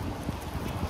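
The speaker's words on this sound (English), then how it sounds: "Look at this wind!" Strong wind buffets the microphone outdoors at a London street flower market, a continuous low roaring rumble with no pauses over the whole short moment.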